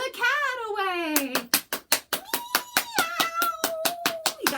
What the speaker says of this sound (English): You gotta clap really loud to scare the cat away